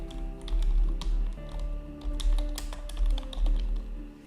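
Computer keyboard typing while text is entered into a presentation slide: a run of quick, close key taps in uneven bursts over a steady low hum from music or background sound.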